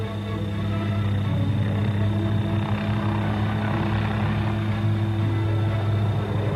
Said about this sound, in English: As the attack helicopters move forward,